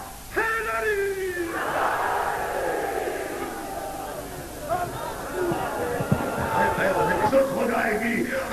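A large gathering at a religious sermon answers with a loud, sustained roar as it shouts the slogan Haideri in unison, a massed chant that swells and then falls back, with a voice ringing out over it.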